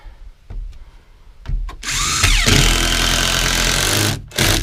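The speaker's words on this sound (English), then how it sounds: "now then, we'll just run a bunch of screws in" A power drill whirs loudly and steadily as it drives a run of screws into a wooden cathouse door, close up, with a short pause before the motor surges again.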